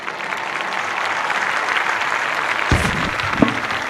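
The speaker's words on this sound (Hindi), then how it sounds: "तालियाँ बजाएँ, तालियाँ बजाकर अपने होने का, अपनी ज़िंदगी का सबूत दें" A mushaira audience claps in dense, sustained applause, loud and even throughout, with a few louder individual claps near the end.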